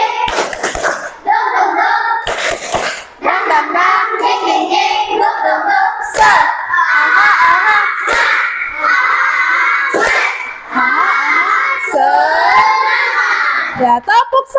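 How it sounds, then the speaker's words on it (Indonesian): Schoolchildren in an Indonesian primary school class perform a rhythmic clapping cheer, loud and close, with bursts of claps breaking through their continuous group chanting and shouting. "Oke, tepuk semangat."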